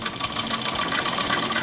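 Tailoring sewing machine running steadily as it stitches sleeve fabric onto a shirt body, a close, continuous mechanical whir with rapid rhythmic ticking throughout and no speech.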